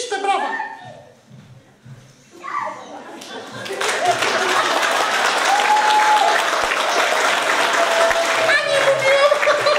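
Audience at a village Women's Day celebration bursts into loud, sustained applause after a costumed presentation, building from quieter talk and continuing strongly to the end.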